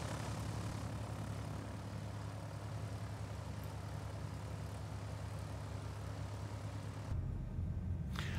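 A Piper Seminole PA44 twin-prop engine drones steadily at low taxi power of around 1,000 RPM in Microsoft Flight Simulator, giving a constant low hum with a throbbing pulse that shifts abruptly near the end.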